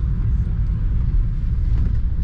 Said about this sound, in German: Jetzt sitze ich jetzt in meinem Taxi und jetzt fahren wir direkt ins Krankenhaus